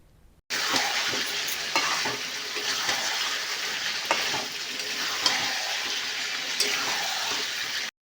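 Mutton pieces fry and are stirred down in a pan for a Bengali-style curry, a loud continuous sizzle starting abruptly, with occasional spoon scrapes and knocks against the pan.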